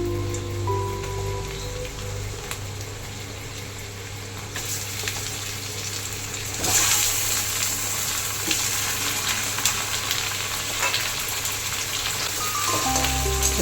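Chicken pieces fry with browned onions in a pan over a high gas flame, a dense continuous sizzle like heavy rain that swells louder partway through, close up with occasional stirring scrapes.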